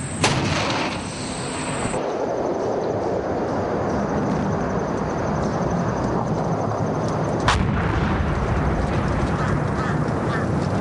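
An artillery gun fires at the Korengal outpost in Afghanistan: two sharp blasts, one early and one near the end, stand out over a steady, loud wash of outdoor noise.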